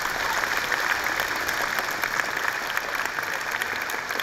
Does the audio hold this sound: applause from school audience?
yes